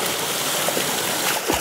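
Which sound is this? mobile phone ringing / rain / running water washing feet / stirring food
running water washing feet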